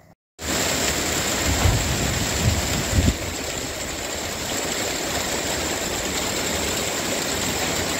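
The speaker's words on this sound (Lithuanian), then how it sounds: "Už lango lyja" Continuous hiss of steady rain outside the window in Lithuania, with a few soft low thumps near the start.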